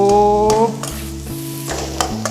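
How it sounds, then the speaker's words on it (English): Vegetables for Thai fried rice stir-fried in a hot pan, with steady sizzling broken by several scooping scrapes of a spatula against the pan, close and clear. "Yes, keep scooping until the veggies look soft."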